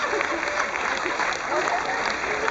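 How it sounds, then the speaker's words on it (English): Audience applause at a hypnotist show aboard the Carnival Splendor cruise ship, a steady, even wash of clapping under a loud, reverberant room sound, with voices mixed in. "Give them all a tremendous round of applause once again."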